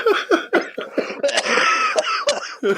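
A man coughs repeatedly, close to the microphone, in short harsh bursts separated by brief gaps, plus one longer rough stretch partway through; no speech.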